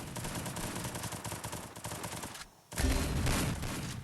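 Sustained video game gunfire in a rapid, dense burst, with a brief pause near the middle before the loud shooting resumes.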